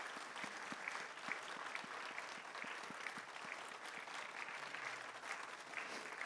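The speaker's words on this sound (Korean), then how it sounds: "자, 박수하시겠습니다." A church congregation claps during a Sunday worship service after new members are received, a continuous even applause throughout, moderately distant and soft, with no talk over it.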